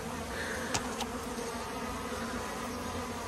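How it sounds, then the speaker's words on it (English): A low, steady hum of many honeybees buzzing close by around a hive and feeder, with a couple of faint clicks near the start and no talking. "there's plenty of bee flying around at the minute"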